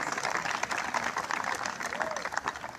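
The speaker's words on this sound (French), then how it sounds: "Applaudissons." Steady audience clapping filling a hall at a ceremony launching state exams, moderately distant with a murmur of voices underneath.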